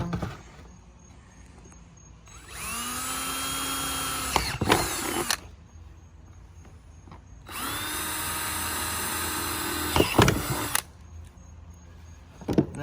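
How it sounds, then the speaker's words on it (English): A power drill bores holes while a Front Runner tailgate table is fitted to a Jeep Wrangler, with two long steady whining bursts close up, separated by brief clatter and handling noise. "And that's all the drilling you got to do."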